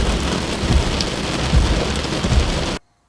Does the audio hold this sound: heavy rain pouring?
yes